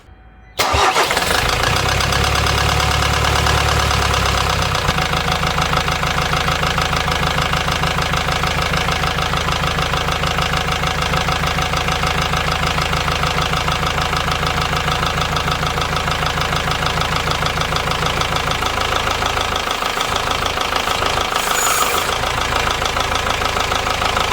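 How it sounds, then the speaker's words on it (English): A Ford Transit Mk7 diesel van engine cranks and starts, then runs at a steady, loud idle with a rough mechanical clatter throughout. "I'll start the engine and we'll have a little look what's going on"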